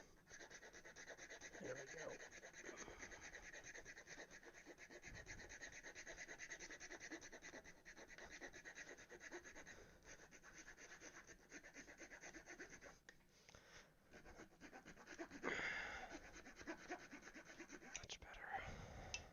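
A wood rasp files steadily at a piece of wood while a wooden mallet is being made, giving a continuous close, coarse scraping that runs nearly unbroken, with a brief louder stroke near the end.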